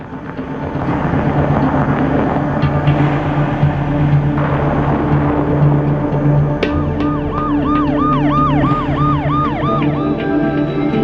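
An ambulance siren wails in rising and falling sweeps, growing clear in the second half over a steady road and traffic rumble, with no voices.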